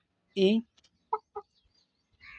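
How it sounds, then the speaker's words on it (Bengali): A rooster and a hen on a rooftop poultry farm give a short loud squawk followed by a few brief clucks, close by in quiet surroundings, with soft movement near the end. "এখানে হচ্ছে একটা মোরগ একটা মুরগি"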